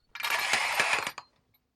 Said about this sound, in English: the sound of the rings on the brass curtain rail above the front door